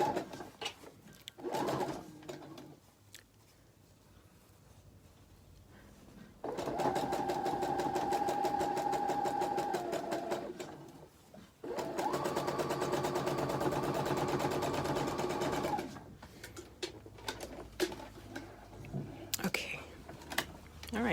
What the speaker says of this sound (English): I'll just sew that closed on my sewing machine